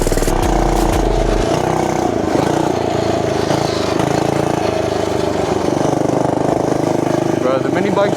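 Small single-cylinder engine of a cheap Amazon mini bike droning steadily and loud throughout the ride, close and continuous with a brief low rumble at the start.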